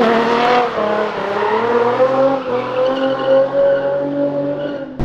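A car burning out on a São Paulo street, its tire squealing in long, wavering tonal wails over engine noise, loud and close throughout, with a sharp burst at the very end.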